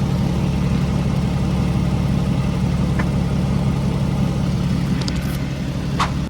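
A Infiniti Q50 with an exhaust leak idles with a steady, raspy low rumble, loud and close, with a couple of brief higher-pitched clicks near the end and no talk.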